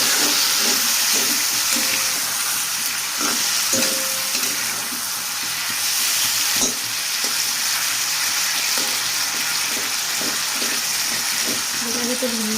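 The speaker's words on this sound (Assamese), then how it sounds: "ইয়াতে মই আৰু 3টা জলকীয়া কাটি পেলাই দি দিছোঁ।" Chopped green chillies sizzle and crackle steadily in hot oil in a pan while cooking a cabbage dish, a continuous close frying hiss with scattered pops and a few faint clinks.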